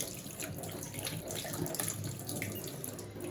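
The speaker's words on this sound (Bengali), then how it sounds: "হাতটাকে ধুয়ে নিই" Running tap water splashes steadily over hands being washed in a home kitchen, a close, continuous rushing sound with no talk.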